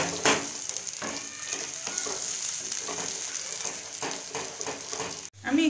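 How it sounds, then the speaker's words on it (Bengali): Palak paneer paste cooking in a pan over medium-low heat, stirred slowly and steadily with a soft continuous sizzle and scraping, fairly close and alone with no talk. "আর এভাবে আস্তে আস্তে নাড়তে হবে।"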